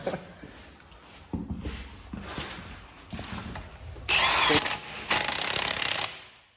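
Bolts on a 2017 Jeep Grand Cherokee Limited with a Rough Country 2.5-inch suspension lift being run tight with a power tool, scattered clicks and clatter first, then two long loud bursts of rattling impact near the end.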